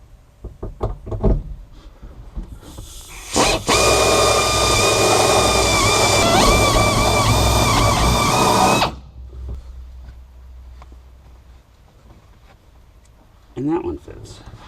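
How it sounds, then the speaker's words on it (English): A power drill bores holes in the floor of a 1977 Ford F100 pickup, a loud steady whine held for about five seconds with a pitch shift midway. Knocks and clatter come before and after it, and a voice is heard briefly. "Go ahead and drill these other holes out"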